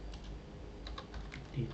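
Someone types the ping command on a computer keyboard while configuring a Debian 10 system, producing a quick, steady patter of close, light key clicks over a soft background hum.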